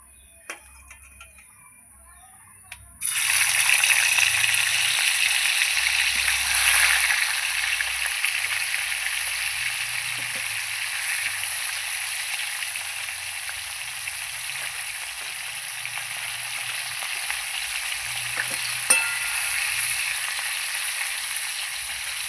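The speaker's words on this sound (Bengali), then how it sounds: "এবার আমি মাথাগুলো ভেজে নেব প্রথমে" Tilapia fish heads drop into hot oil, and a sudden loud sizzle bursts in after a quiet start, then holds as a dense, even crackle with faint low murmurs beneath.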